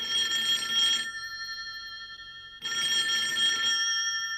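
A telephone bell rings in two long bursts separated by a pause of about a second and a half, clear and fairly close.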